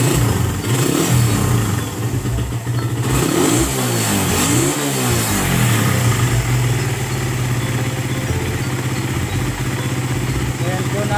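A Raider 150 motorcycle engine idles loudly up close during a tune-up, its pitch rising and falling through a few light revs before settling back to a steady idle.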